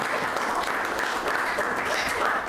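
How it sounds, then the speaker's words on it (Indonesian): Students in a classroom applaud together, a steady, continuous wash of many hands clapping at moderate loudness, sustained throughout. "Oke, tepuk tangan dulu semuanya."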